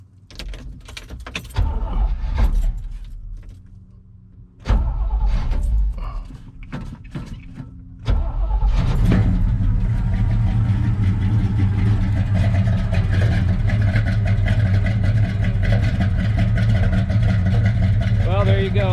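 A 1970 Chevy big block V8 in neutral. Keys rattle and the starter cranks in a few attempts, then the engine catches and settles into a loud, steady idle close by.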